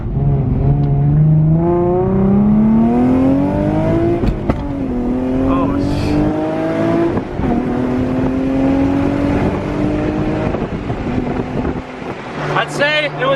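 Nissan GT-R with a freshly fitted custom exhaust driving and accelerating through several gear pulls, each rising note followed by a shift, loud and close with wind noise and some chatter underneath.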